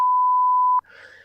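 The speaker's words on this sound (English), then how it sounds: "maybe we'll just beep out the name of the actual fund" A loud, steady censor beep runs for nearly a second over a spoken name, then stops abruptly as a voice carries on talking.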